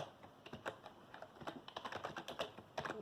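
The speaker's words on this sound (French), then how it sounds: "utilise le clavier pour écrire ton nom" Someone types a name on a computer keyboard during a session of the Adibou children's game, producing rapid, irregular keystrokes that sound close and steady with no talking.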